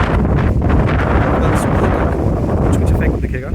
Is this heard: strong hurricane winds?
yes